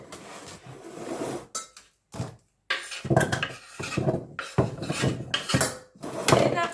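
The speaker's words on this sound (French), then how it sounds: "Et je mets le tout dans ma casserole." Pieces of pumpkin for soup are dropped and scraped into a saucepan, with bursts of clattering, knocking and rubbing separated by short pauses and no talking.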